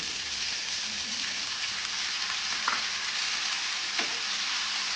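A large chopped tomato sautéing in a pan for a dhaba-style shev bhaji gravy, with a steady close sizzle and a couple of brief stirring scrapes, no voices.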